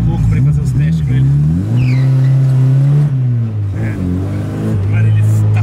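Chevrolet Chevette engine revving and accelerating as the rear slides out, a loud low drone rising and falling in pitch, with someone talking over it.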